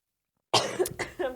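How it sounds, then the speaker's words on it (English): A person coughs up close, several rough bursts in quick succession after a moment of silence, loud and dry, with nothing else around. "Because I'm like coughing so much"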